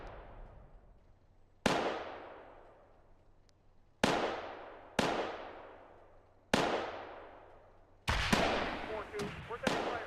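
Gunfire and blasts in a military video game: four loud, sharp reports spaced a couple of seconds apart, each ringing out in a long echoing decay, then a quicker cluster of overlapping shots at the end.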